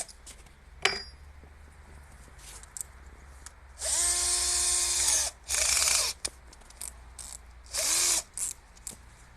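Power drill boring an 8 mm hole through old shelf wood, with a brief tap, then a loud whining run of about two seconds and two shorter bursts, close and alone without talk.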